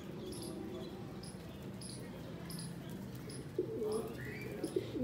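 Soft, low cooing from pigeons repeats close by over a steady murmur, with a few faint chirps mixed in.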